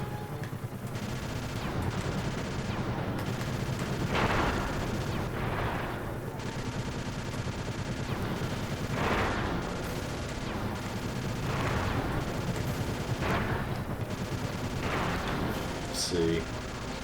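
Gunfire in the PS2 game Sly 2: Band of Thieves, repeated bursts of shots every couple of seconds over constant game music, with a voice speaking near the end.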